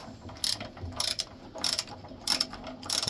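Hand ratchet with an 11 mm socket loosening the starter bolts on a Bolens machine, quick repeated bursts of clicking pawl strokes, close and clear.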